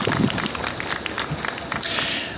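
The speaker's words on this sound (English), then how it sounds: "Round of applause, everyone, please." An outdoor crowd applauding at a national Buddhist heritage gathering in Ottawa, a broad, continuous wash of many hands clapping at moderate distance.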